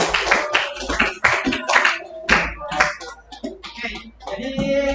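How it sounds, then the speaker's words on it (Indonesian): A class clapping hands in a room, a dense burst of many claps over several seconds, loud and close, with voices mixed in. "oke, tepuk tangan buat aku"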